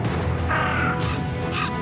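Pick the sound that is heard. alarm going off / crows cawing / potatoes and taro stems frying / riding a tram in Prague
crows cawing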